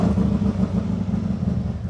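A 2020 Harley-Davidson Road Glide V-twin motorcycle engine idling after start-up, a steady low loping rumble close by with no voices.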